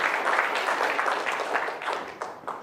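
A small audience at a health talk gives a brief burst of clapping, steady and moderately close, tapering off by the end with a few scattered claps.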